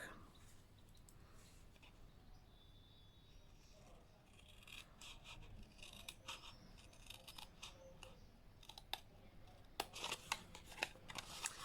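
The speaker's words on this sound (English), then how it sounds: "So I'm just going to take my scissors." Scissors cut through card along a pencil mark for a layered hexagonal card, giving soft snipping and rubbing sounds that grow into sharper, irregular clicks and crunches toward the end, close and quiet.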